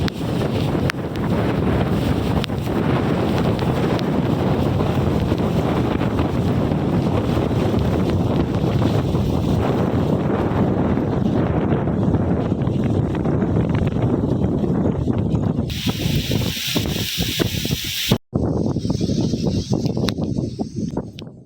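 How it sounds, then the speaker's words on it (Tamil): Strong cyclone wind from Cyclone Fengal roars at the Pichavaram tourist centre in Cuddalore district, a loud, constant gusting buffet battering the microphone for over twenty seconds, with brief bursts of hiss near the end and no talk. "கடலூர் மாவட்டம் பிச்சாவரம் சுற்றுலா மையத்தில் மழை குறைந்து காணப்பட்டாலும் பலத்த காற்று வீசி"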